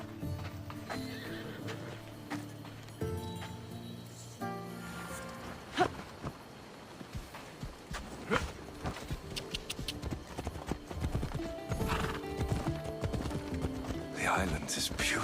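A horse gallops with rhythmic clip-clop hooves and an occasional whinny in Assassin's Creed Odyssey, heard under music and moments of game dialogue, the hoofbeats steady and close.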